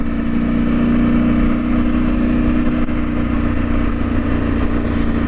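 A KTM motorcycle engine runs steadily nearby, a loud, even mechanical drone that holds at a constant idle throughout with no talking over it.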